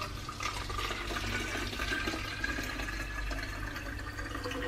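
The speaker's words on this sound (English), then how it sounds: "So let's just pour it in." Herbal tea for hair is poured from a container into a spray bottle over a sink, giving a steady, continuous splashing trickle of liquid with no pauses or talk.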